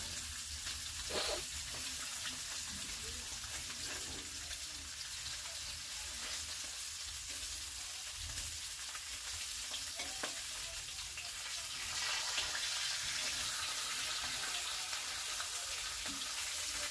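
Food sizzles steadily in a pan on a home kitchen stove, a continuous soft frying hiss with occasional faint stirring taps and no talk.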